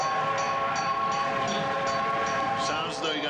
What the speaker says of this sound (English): I was down in the dungeon helping Eddie fix his train set.